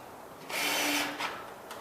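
A power drill drives screws into a drywall patch during a garage ceiling water-damage repair: one whirring burst of just under a second, then a shorter second burst, close and fairly loud with no talk.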